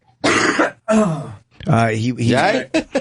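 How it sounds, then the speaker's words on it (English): A person coughs and clears their throat in several rough bursts, close to the mic, with short pauses between. "I'm coughing."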